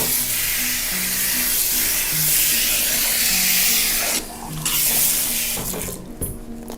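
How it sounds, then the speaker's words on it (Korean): Lukewarm water running from a faucet as hair is rinsed, a loud steady splashing spray that breaks briefly when hands move through the stream. "미온수로 한번 꼼꼼히 헹궈 보도록 할게요"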